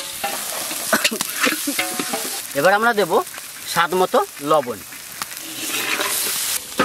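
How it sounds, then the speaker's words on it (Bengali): Spices frying in a pan with salt, turmeric and green chillies, a steady sizzle with spoon scrapes running throughout beneath a voice talking over the cooking. "মশলাটা সুন্দর করে কষিয়ে নিয়েছি,"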